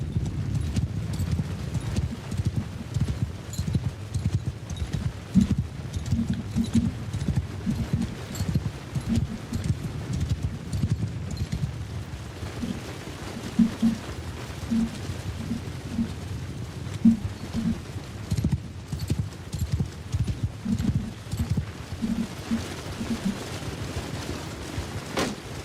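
Horses in the video game Warhammer Old Realms trot with steady rhythmic clip-clop hoofbeats over a low rumbling bed, continuing throughout with occasional bird coos in the background.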